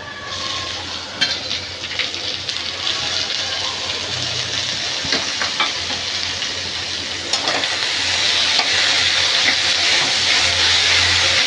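Washed, chopped red amaranth leaves with turmeric dropped into a hot pan, giving a loud, steady steaming hiss and sizzle that swells louder toward the end, with occasional stirring clicks, no voices.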